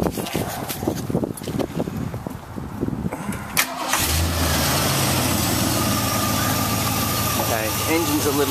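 A 1969 Ford Mustang convertible, in Ford factory red and just out of long storage, cranks with rapid clattering turns, then catches and settles into a steady, loud, rumbling idle close by.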